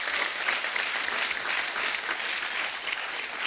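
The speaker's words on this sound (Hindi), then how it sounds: "उस फिल्म के लिए जोरदार तालियां हो जाए" A studio audience at a comedy talk show gives loud, sustained applause, dense even clapping throughout with no break, no voices over it.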